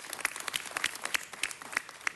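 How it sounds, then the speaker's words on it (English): A small audience at a city council gathering claps, the individual claps sparse and distinct rather than a dense roar, fairly faint and continuing evenly for a couple of seconds. "Let's give them a big round of applause."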